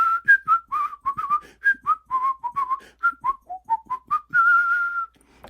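A voice whistles a lively trumpet line from the scherzo-like second half of a movement of Sibelius's Symphony No. 5, imitating the trumpet in a quick string of short, bright notes that ends on one held tone.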